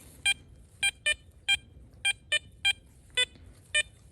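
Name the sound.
metal detector double beep over a target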